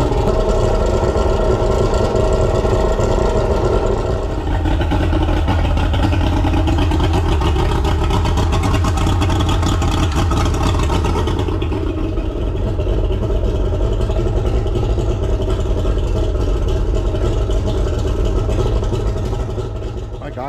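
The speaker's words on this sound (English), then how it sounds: "The outboard is running beautifully." An outboard boat motor, newly fitted with a fuel water separator, runs continuously at a steady idle, loud and close, its even drone holding throughout with only slight shifts in tone.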